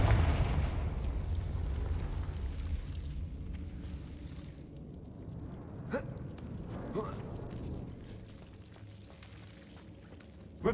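A Confringo blasting spell goes off in Hogwarts Legacy as a loud, deep explosive rumble that fades over several seconds, followed by quieter ambient room tone with faint small clicks.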